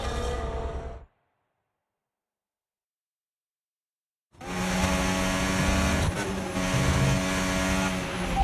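A Formula 1 car in the F1 25 game at Silverstone, with a high engine whine that cuts out abruptly, leaving a few seconds of silence before the engine tone returns, sustained and loud.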